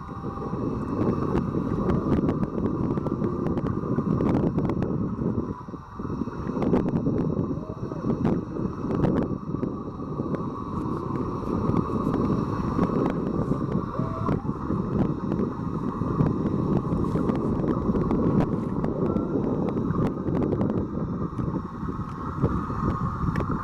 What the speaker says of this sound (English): See that noise that's picking up? It's the boat.